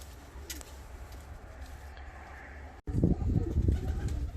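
Bağdadi pigeons coo softly in a loft, low murmuring calls over faint background hiss, with a brief dropout followed by louder, closer cooing and rustling.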